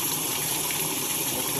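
Water gushing and flooding out of a car coolant system during a flush, a dense, steady, loud rush with no pauses.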